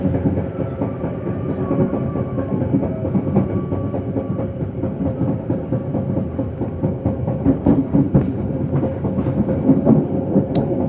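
The Bangunkarta economy train from Jombang to Pasar Senen rolls along the rails with a continuous rumbling roar and a steady, repeating clickety-clack of wheels over joints, heard from inside the carriage without talk.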